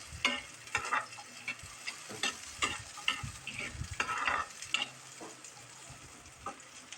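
Carrots and garlic sautéing in a pan, a steady soft sizzle broken by frequent scraping and clinking of a spatula as the mix is stirred, close and without talk.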